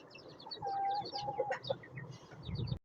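Chickens cluck and chatter close by while pecking at corn feed on a small farm, short busy calls in quick bursts over a rustling, scratching background.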